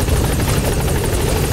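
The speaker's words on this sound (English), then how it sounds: "Support helicopter." Support helicopter arriving in Metal Gear Solid V: The Phantom Pain, a steady, loud rotor drone filling the moment with no break.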